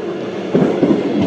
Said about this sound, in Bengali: এটা হচ্ছে ডাউন কল্যাণী সীমান্ত লোকাল।